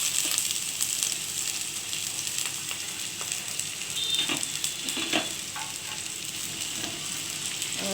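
Chopped onion and garam masala fry in a pan for a brinjal and prawn dish, giving a quiet, steady hiss with faint stirring scrapes.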